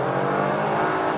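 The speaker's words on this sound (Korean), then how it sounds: "여러분 이제 순수하게 엔진 소리만 들리잖아요." A Genesis G70 3.3T sports sedan with HTRAC all-wheel drive accelerates with its sound enhancer switched off, giving a steady, loud, dense engine roar heard from inside the car, with no talking.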